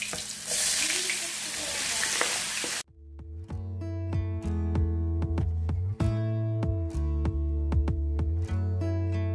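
Meat drops into hot, smoking grease and sizzles loudly and steadily, with a sharp burst of frying at the start and a continuous crackle that stays close and dominant throughout.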